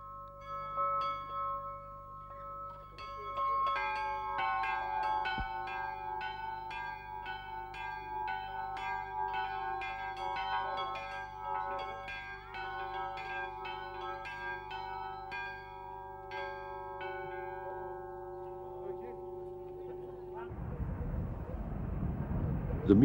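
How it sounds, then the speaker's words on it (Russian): Church bells in Corfu ring in a steady, overlapping peal of repeated strikes that lasts about twenty seconds at a moderate distance, followed by a brief burst of noise at the end. "Музыка церковных колоколов Корфу звучит контрапунктом утонченнейшей музыки собравшихся здесь музыкантов."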